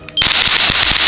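A battery-powered electric remote firecracker device goes off in one loud, sustained crackling burst with rapid popping thumps, close and harsh, alone without voices.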